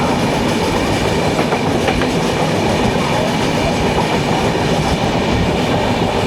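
Sawantwadi Sindhudurg Express hauled by a WCAM3 locomotive rolls past on Indian rails, a loud, steady roar of coaches with rhythmic clickety-clack wheel beats, close by and continuous with no voices.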